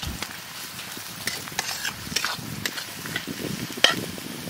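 Onion, capsicum and green chillies frying in a pan during egg chicken fried rice cooking at a riverside picnic: a quiet, steady sizzle with scattered crackles and stirring scrapes.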